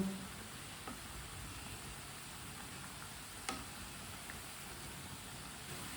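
Pakoras fry in hot oil with a steady, soft, even sizzle throughout, broken by a couple of faint ticks from a utensil.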